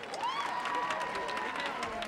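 Applause and cheering rise from the crowd at the 2005 Mad Video Music Awards, sounding fairly distant and soft, with a sustained whistle-like tone above the clapping.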